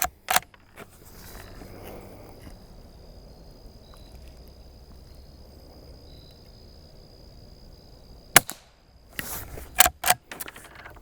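A Rossi Rio Bravo .22 lever-action rifle fired at a target 50 yards away outdoors: crickets chirp through a long quiet stretch before a sharp, loud report, followed by a few closely spaced clanking bursts near the end.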